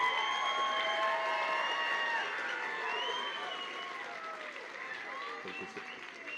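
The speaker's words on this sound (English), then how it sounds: "a huge round of applause for everyone who helped you reach this point" Audience applause for graduates' loved ones at a pharmacy technology pinning ceremony, a steady faint patter of clapping with some cheering, running under continuous talk and fading slightly toward the end.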